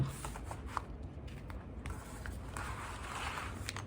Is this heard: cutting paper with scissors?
yes